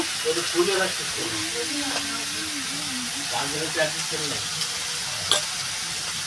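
Soya chaap fries in a pan with a steady sizzle and occasional stirring scrapes, while a voice talks over it.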